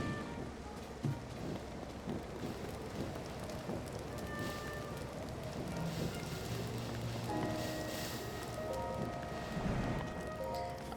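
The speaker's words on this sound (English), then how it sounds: "It's always raining." Steady rainfall in The Legend of Zelda: Tears of the Kingdom, a constant soft hiss of rain on surfaces with faint tonal game sounds over it, no talk.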